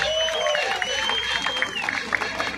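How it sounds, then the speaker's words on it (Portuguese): A crowd at a political street march on Avenida Paulista in São Paulo applauds and cheers, a dense wash of clapping and scattered shouts, with a voice speaking over the noise. "Palmas para Jesus."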